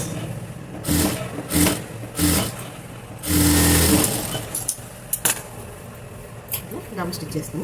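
Sewing machine double-stitching the back neck of a princess-cut frock, running in several short bursts and one longer steady whir, with someone talking between the runs.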